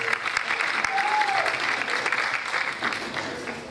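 A high school audience gives steady, full applause at a small-ensembles concert that holds evenly for several seconds and tapers slightly toward the end.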